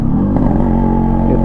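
A motorcycle engine labours at steady, loud revs as the rider shifts down on a climbing Himalayan mountain road toward snow, a continuous droning close to the microphone with slight clatter.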